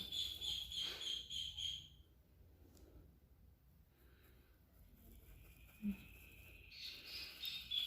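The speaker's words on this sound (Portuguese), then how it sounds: "Os passarinhos estão bem felizes hoje." Small birds chirp outdoors near a street pole holding a nest. Bright, repeated tweets come in a quick cluster at the start and return near the end, faint and somewhat distant over a low background hum.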